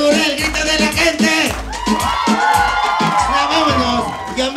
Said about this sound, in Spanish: Que se escuche bien duro el grito de la gente.